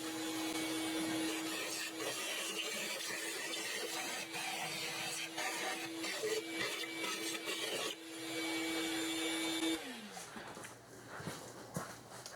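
A vacuum nozzle sucking dust and grime out of the intake holes on the engine of a 2001 Infiniti QX4 with 150,000 miles, a close steady whining drone with scraping rubs that cuts off near the end.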